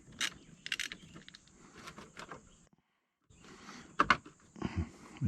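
Ratchet wrench working the negative battery terminal on a 2008 Honda CR-V, a run of close, quick metallic clicks and rattles that stops briefly, then returns in sharper bursts.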